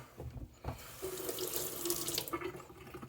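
Tap water runs into a sink while a fossil shark tooth is rinsed by hand, a close, steady splashing stream that breaks off briefly near the start and then resumes, with no talk.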